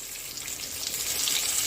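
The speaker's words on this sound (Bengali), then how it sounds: "বেগুন ভাজা হচ্ছে একটু কমাই দাও নাহলে পুড়ে যাবে" Eggplant slices fry in a pan with a steady, close hiss of sizzling oil that swells slightly louder toward the end, with no talking.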